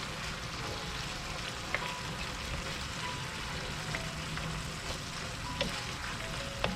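Finely chopped Brussels sprouts sizzle and fry in a pan alongside green beans for a keto shepherd's pie, a steady crackling hiss with occasional sharp clicks as they are stirred.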